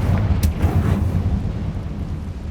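A Confringo spell blast in Hogwarts Legacy booms with a loud, low explosive burst and a sharp crack near the start, followed by a rumbling decay.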